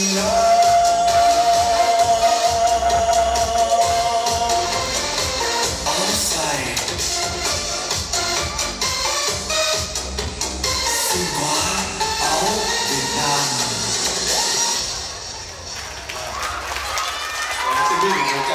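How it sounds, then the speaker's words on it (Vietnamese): Audience at a Southern California charity fundraiser for poor children breaks into sustained, dense applause that fills the room for the whole stretch, with a faint tone lingering underneath early on. "Quý vị một tràng vỗ tay cho Mỹ Dung"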